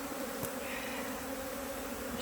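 Yolanta honeybees buzz steadily at an open hive during a queen-cell split, a dense continuous hum with a faint higher whine, close and unbroken throughout.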